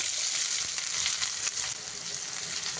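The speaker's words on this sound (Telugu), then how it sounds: "ఉల్లిగడ్డ కొంచెం బ్రౌన్ కలర్ వచ్చే వరకు వేపుకోవాలి ఆయిల్లో" Onions frying in oil for a green chicken curry, alongside whole spices, with a steady, close sizzle that stays loud and even throughout, no voices.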